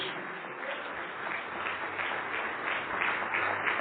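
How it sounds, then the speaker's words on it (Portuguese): A church congregation claps together in a dense, continuous patter that holds steady and grows slightly stronger toward the end, slightly muffled and heard from within the room. "Vamos aplaudir mais, igreja."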